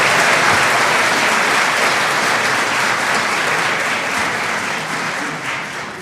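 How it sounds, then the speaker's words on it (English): A graduation ceremony audience breaks into loud, continuous applause on a count of three, a thick wash of clapping that holds steady then slowly tapers toward the end; distinct cheering is hard to pick out. "if we could have a round of woo woo clap, please, on the count of three"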